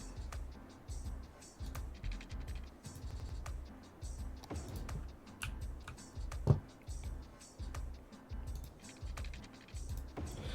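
A computer keyboard clatters with quick, uneven keystrokes, sometimes in rapid runs and sometimes as single taps, close by over a low rumbling background.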